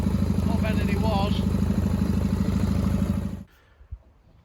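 Triumph Bonneville T140 motorcycle engine idling hot with a steady, lumpy low throb close by, while someone talks over it, before the engine cuts out abruptly and falls quiet.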